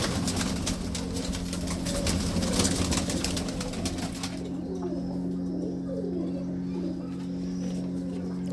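Pigeons coo in low, repeated throaty calls over steady background noise, with a few faint chirps from other birds.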